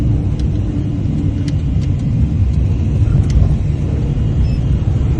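A car pulls away loaded with evacuees from a village near Kramatorsk, its engine a steady low rumble with wind buffeting the microphone throughout.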